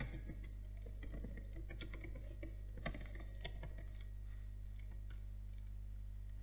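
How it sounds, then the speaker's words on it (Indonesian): Fingers type a password on a computer keyboard, a close series of irregular light key clicks over a low steady hum, with no speech. "terus kita ketikkan juga nama sandinya"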